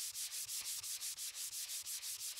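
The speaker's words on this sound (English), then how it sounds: "use 80 or 100 grit sandpaper on a sanding block to roughen the" Rhythmic back-and-forth rasping of 80 or 100 grit sandpaper on a sanding block against a wall, quick regular strokes, close and steady, with no voices.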